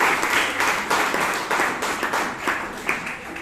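An audience at a Toastmasters meeting applauds in a steady round of clapping, with individual claps popping out of the continuous patter at a moderate distance, and no talking over it.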